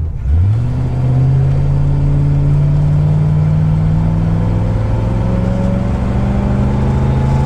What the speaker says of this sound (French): Allez, on va faire une petite accélération.